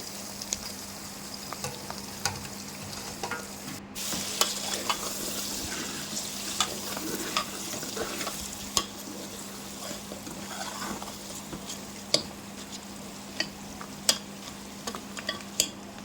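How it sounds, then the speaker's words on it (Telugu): Tomato pieces stirred into a hot frying pan while cooking a Muslim-style dalcha, a steady soft sizzle with light scraping and tapping of the spoon throughout, close and moderately quiet, no talking. "ఆ టమాటా ముక్కల్ని కూడా వేసుకొని బాగా కలిపెట్టుకోవాలి"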